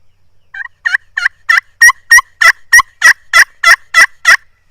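Ridge Rocker glass friction turkey call worked to mimic a young hen's yelp: a series of about a dozen loud, evenly spaced, whiny yelps that rise in strength, close and alone.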